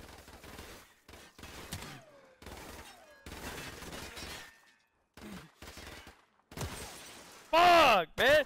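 Bursts of video-game gunfire in a prop hunt match, scattered shots and short volleys between pauses, with a loud harsh burst near the end and someone talking over parts of it.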